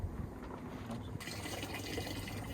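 Water is poured steadily into a container in a car converted for sleeping, a continuous close splashing fill that brightens partway through, alone without talk.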